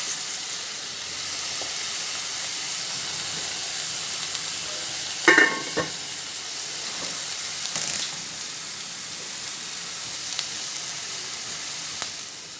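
Sliced onion with red and half-ripe green chillies sautéing in a pan, giving a steady, faint sizzle. A few soft scrapes and clinks from stirring stand out now and then.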